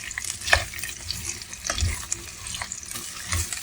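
Onions fry in a pan with a soft sizzle while a utensil stirs them, giving scattered scraping knocks and clinks at an uneven pace, close and fairly quiet, for a Japanese curry.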